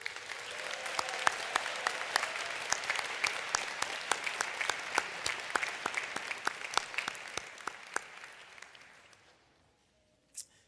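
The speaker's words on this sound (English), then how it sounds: "Let's have a round of applause for the family and friends." A commencement audience in the historic Hill Auditorium applauds for family and friends, with steady crowd clapping and sharp individual claps standing out, slowly fading near the end, followed by a lone late clap.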